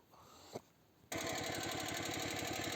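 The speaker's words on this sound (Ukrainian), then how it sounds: "Культивірую на другій передачі. І 200 обертів, мотоблок іде легко." A Motor Sich walk-behind tractor pulls a homemade cultivator in second gear, its engine starting up after a quiet moment with a faint knock and then chugging loudly and steadily in a fast, even pulse close by.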